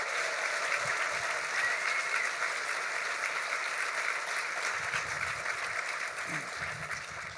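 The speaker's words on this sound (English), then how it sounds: "Let's give her a round of applause." A luncheon audience at the Gore Mountain ADK Challenge Award event applauds Senator Betty Little, a steady wash of clapping from a room of diners, with faint voices surfacing near the end.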